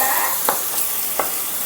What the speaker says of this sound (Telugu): ఉల్లిపాయలు పేస్ట్ ఫ్రై చేస్తున్నాము ఆయిల్లోని